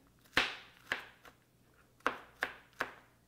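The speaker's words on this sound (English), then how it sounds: "and just chop them just like this" Five crisp knife chops through onions on a cutting board, uneven in spacing with a short pause mid-way, close and clear with no talking.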